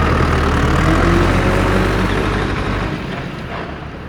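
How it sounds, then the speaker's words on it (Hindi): A blue tractor engine runs with a loud, close, low rumbling drone that holds steady, then eases off slightly toward the end, with no voices over it. "ये अपना ब्लू ट्रैक्टर निकला है।"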